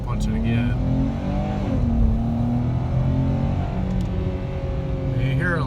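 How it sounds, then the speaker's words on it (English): A 2018 Dodge Challenger SXT V6 accelerating hard from inside the cabin, engine note rising loud and steady with climbing revs throughout, while someone speaks briefly over it. "I'm gonna punch it"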